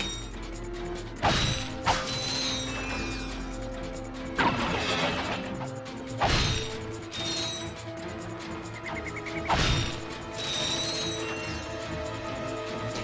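Bolts collected in the 2002 Ratchet & Clank video game, a clattering of mechanical metallic clinks and ratcheting pickups over a humming game soundtrack, with a few heavier crashing hits spaced apart and no talking.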